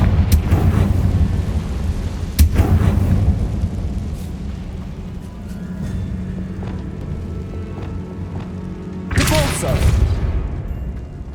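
Confringo fire spell explosions in Hogwarts Legacy gameplay: booming blasts with sharp cracks, one near the start, another midway and a heavier burst near the end, over low rumbling game ambience with character voices.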